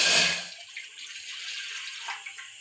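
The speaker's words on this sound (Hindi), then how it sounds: "भड़कू बनाने के लिए अब हम डालेंगे 3 ग्लास पानी।" Water is poured into a cooking pot for bhadku, a brief close splash at first that tapers into a soft, steady trickle and light sloshing, with no voices.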